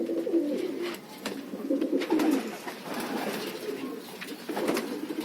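Pigeons cooing close by, soft throaty rolling coos repeating in short phrases over several seconds, with no talk over them.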